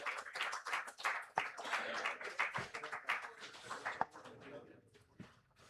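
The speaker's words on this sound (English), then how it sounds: "a big round of applause to each and everyone present here on the dais today" Scattered, moderately faint clapping from a small audience at a hypertension day medical event, individual claps distinct and uneven, tapering off toward the end.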